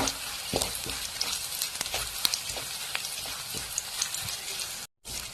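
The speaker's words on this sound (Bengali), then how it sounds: "এরপরে গাইস আমার রসুন কিছু কিছু ভাজা ভাজা হয়ে গেছে" Crushed garlic frying in a pan, a faint, crackling sizzle with scattered pops and occasional stirring scrapes, steady for several seconds before a brief silent gap near the end.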